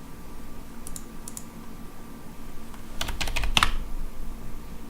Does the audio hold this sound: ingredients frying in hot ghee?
no